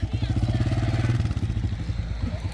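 A motorcycle engine idles and putters close by in a steady, rapid throbbing rhythm that eases off toward the end, with some voices under it.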